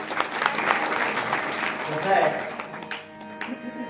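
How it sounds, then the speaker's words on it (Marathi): Kirtan audience clapping loudly, a dense burst of applause that swells and then tapers off over a few seconds, with a voice talking over it. "जोरदार टाळ्या वाजवा"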